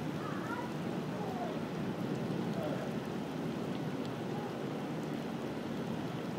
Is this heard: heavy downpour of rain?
yes